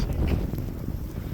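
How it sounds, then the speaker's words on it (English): Strong wind gusts buffet the microphone during an outdoor snowstorm in Canada, a steady, loud low rumble with no voices heard. "it's cold and it's windy"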